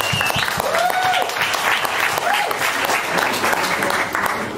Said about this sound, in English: please give a warm round of applause for Dara MacCaba from WhatIf.